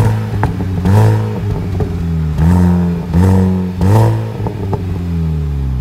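A supercharged 1.6-litre engine in an R53 Mini Cooper S JCW is revved in about four quick, evenly spaced blips over a steady idle, loud and nearby.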